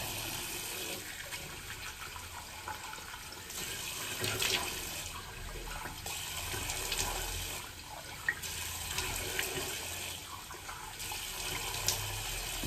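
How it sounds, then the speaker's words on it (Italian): Water runs from a tap into a sink while being warmed for a wet shave, a quiet, steady hiss that swells and fades in soft bursts as the flow is adjusted. "Vediamo che l'acqua si scaldi."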